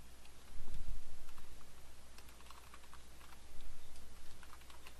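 Typing on a computer keyboard: faint, quick irregular key taps in short runs over a low background hum, with no voices.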